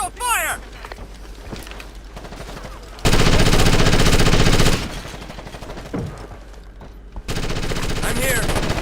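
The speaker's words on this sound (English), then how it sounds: "Taking hostile fire!" Automatic gunfire in Ghost Recon Advanced Warfighter: two long, loud sustained bursts separated by quieter stretches, with a voice speaking in the gaps.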